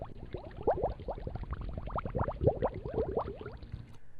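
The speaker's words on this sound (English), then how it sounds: "One is called bubbles, and I can play that if I'd like to." Scratch's built-in bubbles effect, a rapid run of watery bloops and pops bubbling up one after another for about four seconds, played alone at moderate volume.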